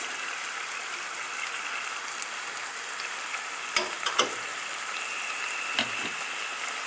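Chicken Manchurian sauce with tomato ketchup, vinegar and green chili sauce cooks in a pan with a soft, steady sizzle. A few brief clinks and scrapes of stirring break through.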